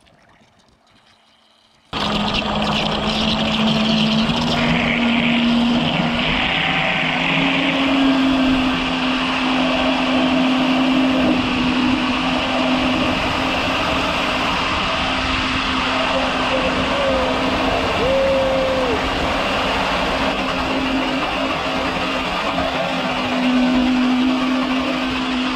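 An RC Thrasher jet boat runs steadily on open water towing an inner tube, its loud continuous high-pitched jet whine droning close by for the whole stretch, with a brief quiet moment before it kicks in.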